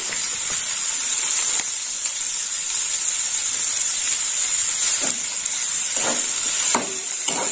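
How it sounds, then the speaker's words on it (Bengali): Boiled banana flower sautéing with spices in a pan gives a steady, close hiss of frying, with a few scraping stirs toward the end and no voices. "মোচা দিয়ে একটু কষে নেব"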